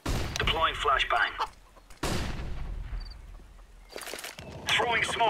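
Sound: flashbang grenade thrown in Counter-Strike video game

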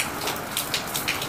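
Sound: rain falling at night

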